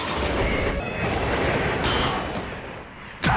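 A train from a Spider-Man 3 (2007) movie scene roars past with loud, continuous rumbling and rattling, ending in a brief, sharp squeal.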